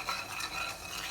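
A spoon stirs turmeric powder and salt into a pot of sambar, giving a brief, soft, continuous scraping swirl with no talking.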